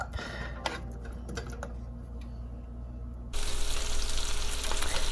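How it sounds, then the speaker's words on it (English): Garlic, ginger, onions and peppers sizzle in hot sesame oil, a steady close crackle that grows noticeably louder and denser partway through, with a few clicks of stirring early on. "Okay, that is sizzling nicely"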